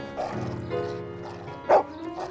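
A dog in a children's show gives several short, high barks and yips close up, spaced irregularly over a couple of seconds, with one louder bark standing out.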